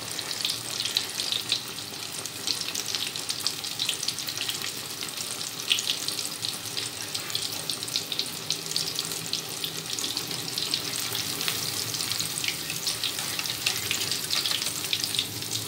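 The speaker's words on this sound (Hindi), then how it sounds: "ये मछली जो है कितनी अच्छी सी फ्राई हो चुकी है" Fish fingers frying in hot oil give off a steady, dense sizzle that holds at an even level throughout, close and unbroken, with no voices.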